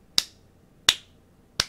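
Three sharp, close hand claps ring out alone in a quiet room, evenly spaced about seven-tenths of a second apart, each snapping crisply and fading quickly.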